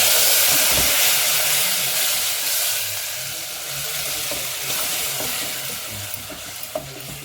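Ground coconut paste for rasam hitting hot oil in a pan, a loud burst of sizzling and hissing that settles into steady frying with occasional stirring scrapes.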